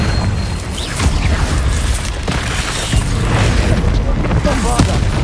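Confringo fire-blast spells in Hogwarts Legacy, loud dense booms and crackling bursts repeating throughout a busy combat scene, with someone shouting over them.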